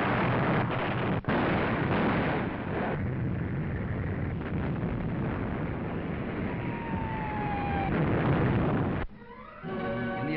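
Dense wartime artillery barrage of massed shell fire, a continuous loud roar of blasts and rumbling, with a brief drop near the start and an abrupt fade near the end.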